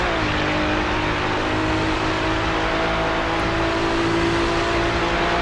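Race car in an iRacing Daytona 24 Hour race, engine droning loud and steady at close range with a constant tonal whine throughout, no talk.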